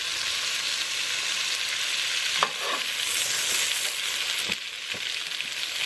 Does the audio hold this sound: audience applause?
no